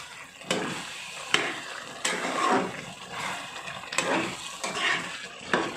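Chicken being stirred with biryani masala in a pan: repeated scraping sweeps of a spoon every second or so, close and moderately loud, over a faint sizzle, with no speech.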